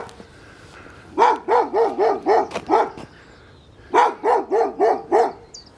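A big dog by a road gives two bursts of loud, close barking, a run of five deep barks, a short pause, then four more in a steady rhythm.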